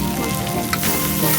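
Prawns, fried earlier, go into a pan of spiced ridge gourd, and a steady crackling sizzle of hot oil runs unbroken through the short moment, close and fairly loud.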